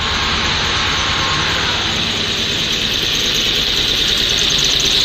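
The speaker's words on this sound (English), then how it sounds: "Still sounds like it's idling a little rough." A car engine idles roughly inside a garage after smoke from it has cleared, a steady, loud, broadband rumble with a constant hiss that holds without a break for the whole stretch, with no voices over it.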